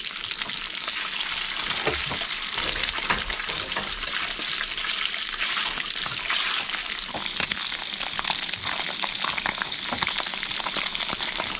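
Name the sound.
sea bream frying in a pan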